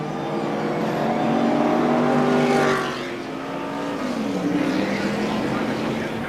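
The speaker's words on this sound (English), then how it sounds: "Richard Petty was running in a pack of cars, and the back end starts to go around" Stock cars race at the 1988 Daytona 500, with loud, sustained engine roar from a pack of cars that swells and then drops in pitch as they pass, carried over a broadcast-style background.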